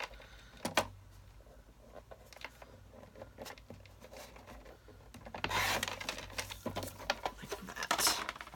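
Scissors cut through a paper card, with soft rubbing and sliding of paper followed by a denser burst of snipping and crinkling near the end, close and fairly quiet with no talking.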